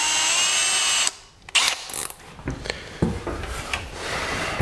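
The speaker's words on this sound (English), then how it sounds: "I'm going to drill a little pilot hole." Power drill boring a small pilot hole for a hole saw during a cabin build, a whirring run that stops, then short bursts of biting and grinding into the material, close up with no talking.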